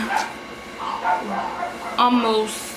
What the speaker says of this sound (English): excuse the dogs, so sorry about that